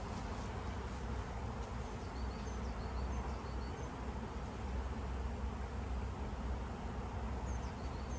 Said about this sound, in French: il y a une partie des abeilles qui se sont envolées, en fait, et qui reviennent se positionner à cet endroit-là